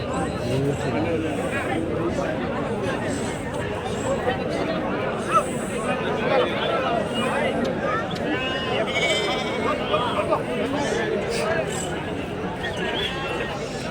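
Lambs and sheep bleat repeatedly at a busy livestock market in Kadiri, their calls rising over a steady babble of crowd chatter and voices throughout.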